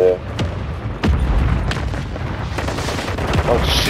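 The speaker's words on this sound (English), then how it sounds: "Requesting fire mission. Target marked. Solid copy. Mortar strike on the way." Mortar strike explosions in a Call of Duty game, heavy low booms landing irregularly over several seconds, with loud rumbling impacts and crackling gunfire mixed in and no speech over them.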